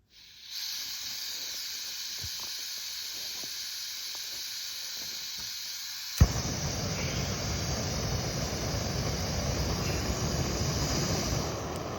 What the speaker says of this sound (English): I'm just going to go with the pocket rocket gas stove and cook my food that way